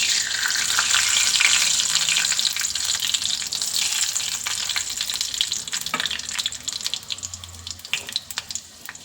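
Fenugreek seeds crackle and sizzle in hot oil for crab sukka, a dense, steady hiss close by that eases slightly toward the end, with scattered pops and faint scraping, no voices.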